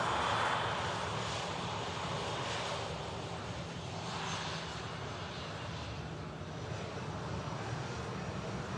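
A Jet2 passenger jet, flying empty with minimum crew after a test flight, touches down at Manchester Airport, its engines giving a steady, broad roar that swells and holds from a distance throughout, with no voices.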